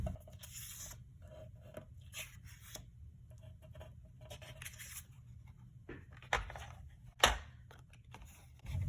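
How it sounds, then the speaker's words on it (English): Paper trimmer slicing card panels for a Stampin' Up Miura fold card, heard as quiet intermittent scraping and rasping blade strokes over a low hum, with a couple of sharper cutting snaps near the end. "I'll take each of these and put them in my trimmer to trim them down."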